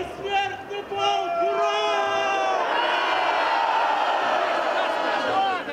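A crowd lining the Immortal Regiment march in Brest shouts loud, sustained hurrahs, the voices layered in long rising cries that swell and hold near and loud.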